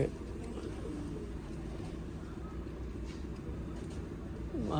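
Pigeons coo in a low, steady murmur against constant background noise, the soft calls continuing throughout without clear breaks.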